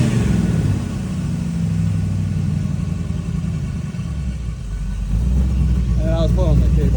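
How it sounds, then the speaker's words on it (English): A car engine, a rear-steer RW1 build, idles with a low rumble, then rises to a steadier, stronger high idle as the throttle cable is pulled; a voice speaks briefly over it near the end. "I was pulling the cable, just like kind of high idle for a second."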